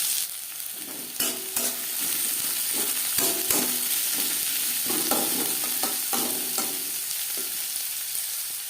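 Onions hit hot refined oil and fry in a pan, a steady sizzle broken by repeated scraping and stirring strokes of a spoon, close up with no voices.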